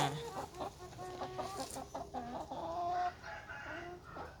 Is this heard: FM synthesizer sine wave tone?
no